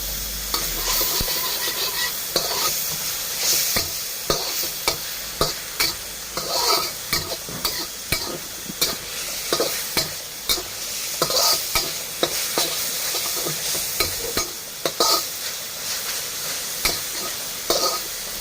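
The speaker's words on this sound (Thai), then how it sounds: "ผัดจนกระเทียมหอมค่ะ" Coarsely crushed garlic stir-fried in a pan for a mixed vegetable and pork dish: a loud, steady sizzle broken by frequent rhythmic scrapes and knocks of a spatula, with no talk.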